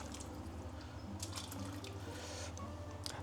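Water runs from a tap into a pot of rice in a kitchen, a steady low splashing pour with a few brighter drips and spatters, heard close and alone.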